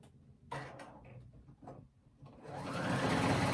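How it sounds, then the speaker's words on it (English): A home sewing machine runs a zigzag stitch over a dress seam, its motor whirring up steadily after a few quiet handling sounds and a brief cough. "I go in my sewing machine and I choose a zigzag stitch"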